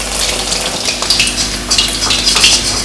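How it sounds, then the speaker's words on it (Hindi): Chicken pieces re-frying in hot oil, a steady loud sizzle and crackle throughout with bubbling bursts, close up and alone with no talk. "अब चिकन को मैं रीफ्राई करूँगी।"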